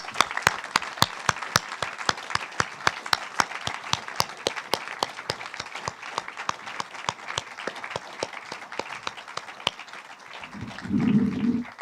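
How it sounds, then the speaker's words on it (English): A modest audience at a museum talk applauds the guests with distinct individual hand claps heard close by that thin out toward the end, followed by a brief low murmur. "I'd ask you to help me applaud our guests for their work."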